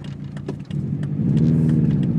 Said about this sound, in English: you can hear right now my exhaust, which is an HKS full turbo back 3-inch exhaust